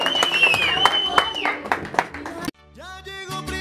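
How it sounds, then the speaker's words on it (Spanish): A burst of clapping and cheering with a sharp whistle at a birthday party, crowded and lively, then cuts off as mariachi music starts. "Fuerte el aplauso para Jason!"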